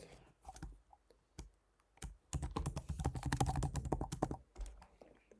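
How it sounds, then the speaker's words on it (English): Computer keyboard keys clacking as a password is entered, a few scattered taps then a rapid dense burst of keystrokes before trailing off, close and quiet. "I will go with Ben, fill in a password,"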